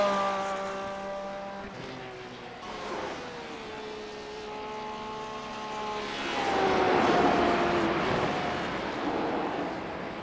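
Porsche race car in a sim racing game at Road Atlanta, its engine whining steadily, rising and falling through gear changes, with a louder swell of roaring noise toward the end and no voices.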